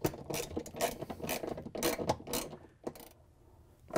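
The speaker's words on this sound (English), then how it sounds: "grab that 10 millimeter socket and the ratchet and the extension and put one of the screws in" A ratchet with a 10 mm socket and extension drives screws while fitting a tub seal on a Whirlpool/KitchenAid/Maytag washer, giving bursts of rapid clicking and metallic ratcheting, close and fairly loud, easing off near the end.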